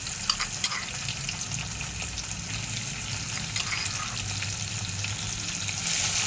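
Crushed garlic and green chilli frying with cumin and asafoetida in hot oil for a green bean bhaji, a dense, even sizzle with a few faint stirring taps early on, close and steady without speech.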